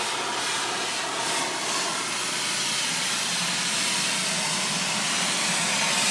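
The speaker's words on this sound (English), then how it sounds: "It's cold enough that the hot water power wash is making a heck of a lot of steam." A hot water power washer sprays boots in cold weather, throwing up a lot of steam, with a loud, steady broadband hiss that runs unbroken and close at hand.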